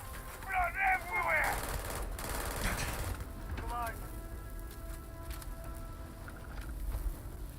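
Rapid gunfire crackles in the Starfield video game, faint and distant, with quick bursts patter-like under a voice speaking at the start.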